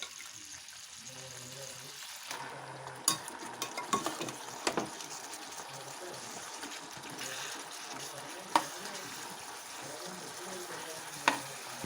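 Beef curry fries on a tawa with onions and curry leaves, giving a steady sizzle with occasional sharp clinks and scrapes of stirring, fairly close and without talk.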